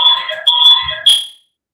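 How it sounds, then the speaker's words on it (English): A fire alarm sounds loud and close in three harsh, buzzing electronic blasts with short breaks between them, heard alone with no talking. "does anybody have a fire alarm going on"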